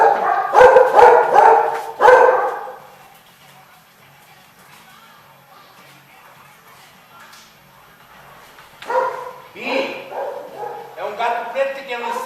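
Dogs bark at a neighbour's cat in short, loud bursts during the first two seconds, then fall quiet before barking and yelping again near the end, with people talking.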